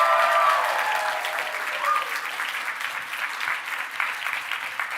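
Audience applause for costumers at a convention masquerade closing ceremony, a dense steady wash of many hands clapping that starts loud and eases slightly while continuing throughout.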